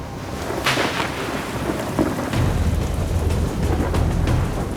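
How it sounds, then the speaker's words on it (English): A thunderstorm near Kodiak Island, Alaska, with loud rolling thunder and steady heavy rain as the wind picks up, a continuous dense roar with several sharper thunder bursts. "Angry skies are lighting up the horizon, and the wind speeds are ramping up again"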